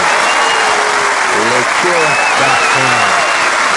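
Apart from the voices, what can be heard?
podcast audience applause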